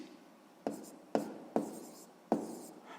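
Pen strokes writing numbers by hand on paper during a sixth-grade maths exercise, four distinct scratchy taps and scrapes in an irregular rhythm, close and clear.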